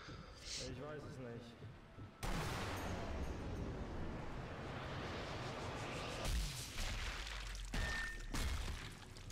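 Sniper rifle shots land a double headshot in the video game Sniper Elite V2, on the Schonberg Convoy mission. Loud booming blasts with long rumbling tails come at intervals, and a voice talks over them.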